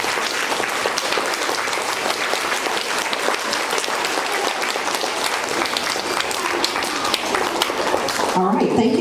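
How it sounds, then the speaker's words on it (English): A school awards audience gives the teachers and adults a big round of dense, steady applause that fills most of the clip, fading as a voice starts talking near the end. "Give them a big round of applause as well."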